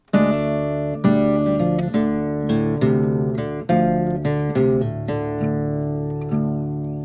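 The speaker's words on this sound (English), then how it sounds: "a repeating riff that sounds like this." A fingerstyle acoustic guitar in drop D tuning plays a repeating low delta blues riff, a droning bass note under plucked higher notes, ringing and close.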